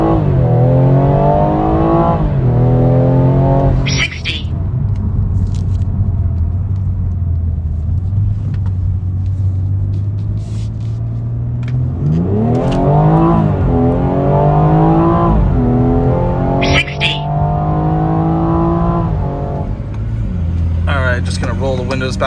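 A 2019 BMW M240i M Performance Edition with a Stage 1 tune revs hard several times, each climb rising and falling around a loud idle rumble, with short crackling bursts between pulls.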